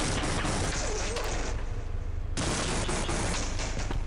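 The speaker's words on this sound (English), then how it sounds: "charge up here with the Tau cannon out and kill all the survivors" Tau cannon fire in the Half-Life video game: a dense, continuous roar of loud energy-weapon blasts and crackling impacts, sustained without a break and close up, with a brief dip midway before the full barrage resumes.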